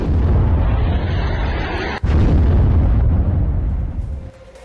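Loud rumbling blast noise from an army strike on a terrorist camp rolls on continuously, with a sharp break near the middle, then a deep roar that fades toward the end.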